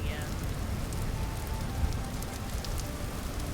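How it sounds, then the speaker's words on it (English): Rain falls steadily in the game Vintage Story, a dense, even hiss of drops on surfaces with occasional sharper patters, constant and close throughout. "It's raining again."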